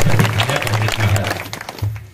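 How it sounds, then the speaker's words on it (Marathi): Loud, steady applause from the audience at a Marathi devotional Bhagavat katha gathering, sustained for the whole stretch over a low droning musical tone, with no talk on top. "एकदा जोरदार काढून टाळ्या"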